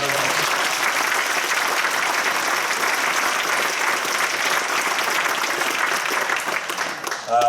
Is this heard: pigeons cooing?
no